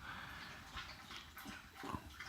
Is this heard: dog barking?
yes